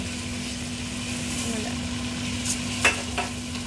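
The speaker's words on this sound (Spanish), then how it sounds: "Y ahora ya echamos el arroz." Rice tipped into a hot pan for stuffed peppers and stirred, giving a steady low sizzle with a few scraping clicks near the end, fairly quiet and continuous.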